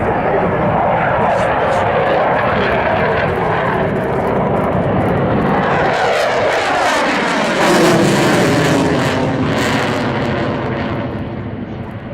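A Royal Air Force World War II heavy bomber flies past at a seaside air show, its propeller engines giving a loud, sustained droning roar that swells as it passes, with an announcer talking over it.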